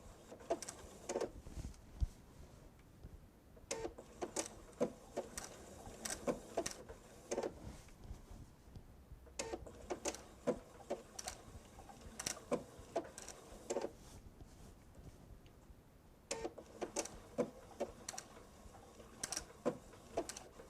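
A sewing machine stitches thin white fabric in bursts of rapid, mechanical ticking separated by short pauses, quiet and close.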